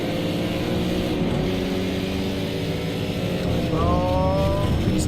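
A race car engine in a video game race holds a steady loud drone, then near the end the pitch jumps with a quick gear change and climbs again, with no talk over it.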